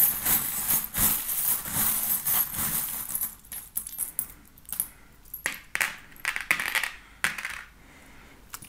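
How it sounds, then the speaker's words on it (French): Small metal charms tumble and clink against one another as they are dropped for a divination charm reading, a run of bright scattered jingles, close and fairly loud, easing into sparser taps and rattles. "Alors, je vais juste mettre quelques autres breloques."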